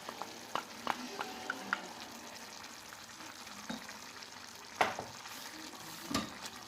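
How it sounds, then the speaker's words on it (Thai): Carrots and tomato sauce sizzle gently in a frying pan while a spoon stirs them, with a soft continuous fry under scattered light scrapes and clicks against the pan. "คนให้เข้ากันนะคะ พอแครอทเริ่มสุกเราก็จะเติมซอสมะเขือเทศเลยค่ะ"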